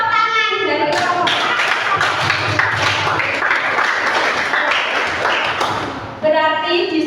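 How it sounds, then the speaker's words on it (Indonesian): A classroom group of students claps together in a lively, slightly uneven burst lasting several seconds. A teacher's voice is heard briefly before and after the clapping. "Tepuk tangan dari kelompok."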